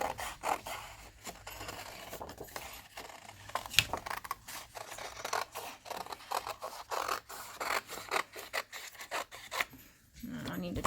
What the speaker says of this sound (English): The scissors open and close, but my hand's not moving all around.